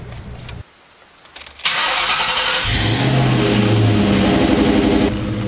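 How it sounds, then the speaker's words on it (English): A car fitted with a traction control window switch cranks and fires up, a brief starter whir then a loud catch into a revving engine that settles into a steady, close idle with no talk. "turn the car on."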